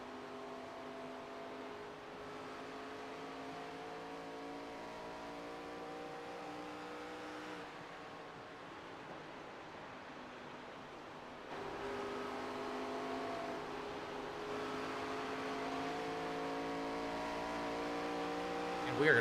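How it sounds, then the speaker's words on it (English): ARCA Series race car engines at Dover roar steadily for the whole stretch, a continuous droning note with shifting pitch, swelling louder partway through as the cars circle the track. "You can hear these engines roar."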